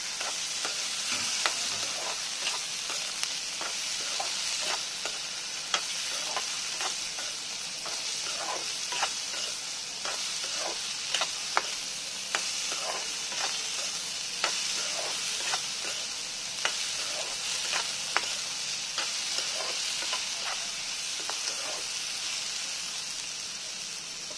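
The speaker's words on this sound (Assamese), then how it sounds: "এতিয়া মই এইখিনি ভালকৈ লৰাই দিম।" Fish and ridge gourd being stirred in a sizzling pan, a steady fry hiss under repeated scraping strokes of a spoon spaced through the whole stretch, close and fairly quiet, with no voices.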